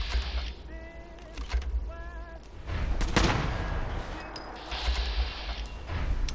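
Frag grenades go off in Fallout 4 survival play, with several deep booms and explosive blasts mixed with metallic mechanical clanks and rattles. The bursts repeat at uneven intervals and no one speaks.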